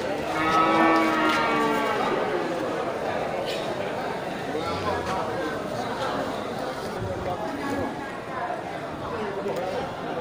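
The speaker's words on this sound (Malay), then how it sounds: "Ya, ini sapi Aceh ya, sapi persiapan untuk sapi kurban." Aceh cattle, breeding cows and bulls raised for qurban sacrifice, low moos from several animals at close range over steady farm background, with people talking.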